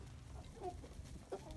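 A chicken near its eggs gives two short, soft clucks, faint and close in a quiet farm setting.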